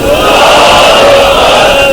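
A large crowd at a religious sermon gathering in Lahore shouts a slogan back in unison, one loud, sustained, massed roar filling the hall.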